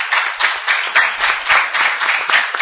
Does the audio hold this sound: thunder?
no